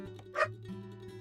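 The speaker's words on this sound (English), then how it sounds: "excuse my dog barking in the background if you can hear" A single short dog bark rings out in the background of an indoor room, faint and brief against a low steady hum.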